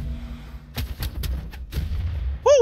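A bomb explodes in the Brawlhalla video game, a burst of sharp booming hits in quick succession followed by a bright rising game chime, loud and with no talk over it.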